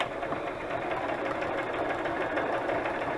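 Sewing machine stitching fabric pockets: a steady, fast mechanical whir with a rapid rhythmic chatter, close and continuous with no voices.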